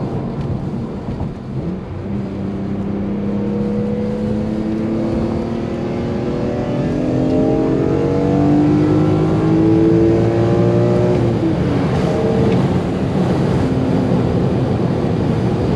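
A BMW E46 M3 engine revs steadily up toward high rpm, its smooth, loud rising tone climbing through the range before easing off, heard close and without talk.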